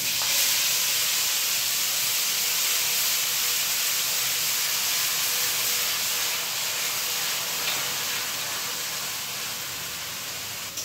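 Onion paste made from three medium onions hits hot oil, giving a steady, loud broadband sizzle and hiss that holds evenly for about eleven seconds and fades slightly at the end, with no talking.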